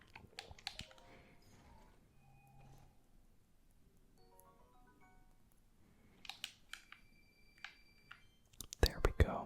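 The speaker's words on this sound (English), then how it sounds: "I am playing on my Pro controller, so there's not going to be as many clicky sounds, but there's still going to be a lot of those" A Nintendo Switch Pro controller is played during a Legend of Zelda: Breath of the Wild session, its buttons giving scattered soft clicks and taps that come in bursts, with quiet game music tones underneath.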